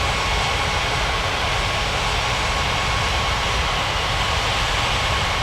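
An airliner taxiing on a runway in a 3D flight game: a steady, loud jet-engine roar that holds constant without pause or speech.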